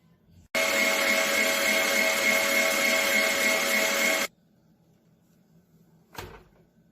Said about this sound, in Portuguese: Agora eu vou bater mais um pouquinho só para terminar de misturar e pronto.